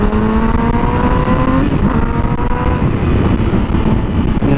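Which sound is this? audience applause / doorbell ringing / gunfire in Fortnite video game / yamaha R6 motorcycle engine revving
yamaha R6 motorcycle engine revving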